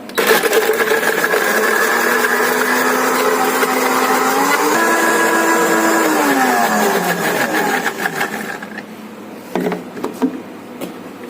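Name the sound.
blender blending mango with sugar for a smoothie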